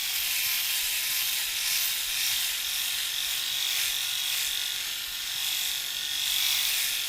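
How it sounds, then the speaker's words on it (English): A MoonShave Flex Series head shaver hums steadily up close, a constant high-pitched buzzing whir with slight fluctuations and no talking. "you probably can't hear me very well because of the shaver"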